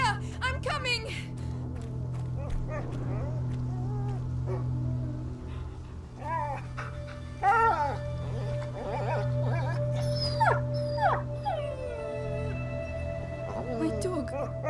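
A dog barks, whimpers and howls in A Plague Tale: Innocence, repeated yelps and cries over a steady low drone. Voices speak throughout.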